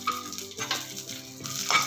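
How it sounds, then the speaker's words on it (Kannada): A few cashews fry in oil in a pan for a curd rice tempering, producing a soft, steady sizzle with faint crackles, close but fairly quiet and free of speech. "ಇದಕ್ಕೆ ಒಂದೆರಡು ಗೋಡಂಬಿ ಫ್ರೈ ಮಾಡ್ಕೊತೀನಪ್ಪ"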